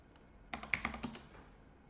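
A short burst of computer keyboard typing, several quick close keystrokes in a row, faint and alone in a quiet room.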